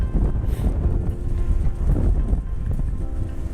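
Strong wind buffets the microphone outdoors at a long-range rifle shooting range, a loud continuous rumble with gusty swells and no talk.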